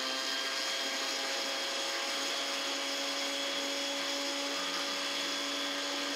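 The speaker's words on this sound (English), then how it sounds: "So I'm gonna grind this just a little bit more" Steady, high-pitched electric grinder whine while finely grinding ingredients for a homemade facial exfoliant in a kitchen, a continuous close drone with no pauses or talk.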